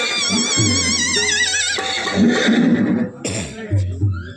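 A horse whinnies with a long, wavering, high-pitched call, followed by people speaking close by in a dramatic scene.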